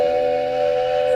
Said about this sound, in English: The train whistle is out and about.